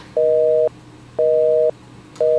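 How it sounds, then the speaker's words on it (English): Telephone busy tone of a line that will not connect, heard as loud, steady two-note beeps in an even on-off rhythm, about half a second on and half a second off, with no voices. "His phone is going to a busy tone"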